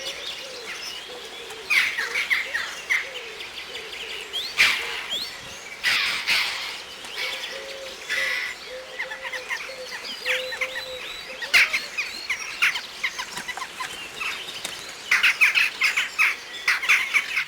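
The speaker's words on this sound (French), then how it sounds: "Les choucas sont des oiseaux enjoués et sociables, au tempérament grégaire, qui se rassemblent en grandes troupes bruyantes" A noisy flock of western jackdaws calling: many short, sharp squawks and chattering calls overlap in irregular bursts, some close and loud, others farther off, over steady outdoor background noise.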